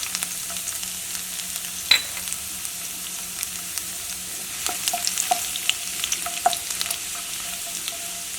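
Minced garlic frying in a pan for egg fried rice, a steady soft sizzle with occasional brief crackles and pops, close and moderately quiet, no talking.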